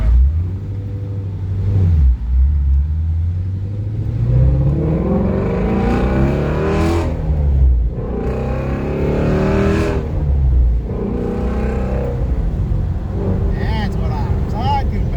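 A 2018 Ford Mustang Shelby GT350 engine revs loudly and climbs in pitch, with close, sustained engine roar running through most of the stretch and people talking over it inside the car.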